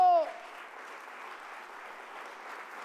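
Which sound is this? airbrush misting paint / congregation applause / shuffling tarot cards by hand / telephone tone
congregation applause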